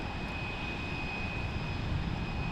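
A jet takes off at Fort Lauderdale International Airport, a steady, distant engine roar with a faint high whine that holds level throughout, with no voices.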